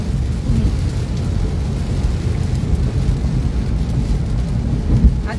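Heavy rain pounds down in a dense, continuous roar with a deep low rumble beneath it, loud and unbroken, with a single stronger thump near the end.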